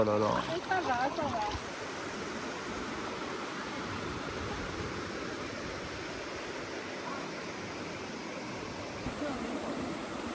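A waterfall and stream on the Bonaventure River rush in a steady, broadband roar, with a brief burst of people talking at the start and the water continuing alone.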